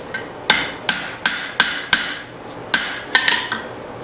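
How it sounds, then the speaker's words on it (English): A hammer strikes the spine of a hot blacksmith chopper blade to curve it, ringing metallic blows landing in a steady rhythm, about ten sharp hits with a short pause midway, close and loud. "I'm just hitting on the back of the spine, trying to get a curve"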